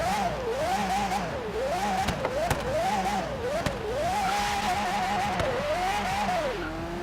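An Aston Martin Vulcan hypercar in Forza Horizon 3, its engine revving up and down in repeated rising and falling sweeps, loud and close, with faint tire noise and a few sharp knocks.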